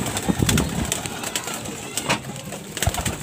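Racing pigeons coo softly in a loft as they are fed, with scattered flapping and shuffling nearby and a voice faintly in the background.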